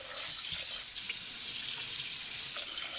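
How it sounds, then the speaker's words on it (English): Tap water pouring steadily from a faucet over turkey giblets in a pot, a continuous close hiss and splash with no talking. "what you need to do is cover them with water."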